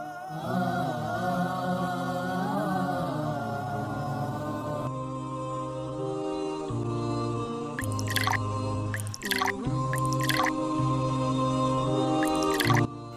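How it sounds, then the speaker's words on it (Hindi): Water pours and drips steadily as someone performs wudu ablution outdoors in Kashmir, with a continuous running-water wash and a few sharper splashes near the end. "यार ये बड़े आराम से वुजू बना रहा है"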